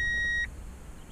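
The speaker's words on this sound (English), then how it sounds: "Wait for the beeping stop and then we'll go." A car's warning chime beeps in one steady electronic tone after the engine is switched off, then cuts out, leaving a low interior hum.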